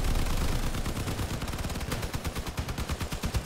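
Rapid automatic weapon fire from a combat vehicle in the game Crossout, a steady stream of close, loud shots that becomes sharper and more spaced in the second half as the gun bursts rhythmically.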